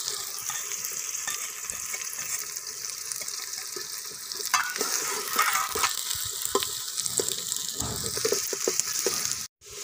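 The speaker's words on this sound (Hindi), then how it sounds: "घी हमारा गर्म हो चुका है। अब इसमें हम प्याज डालेंगे।" Onions sizzling and frying in hot ghee in a pot for chicken biryani, a steady close crackle with occasional stirring scrapes throughout, no voices.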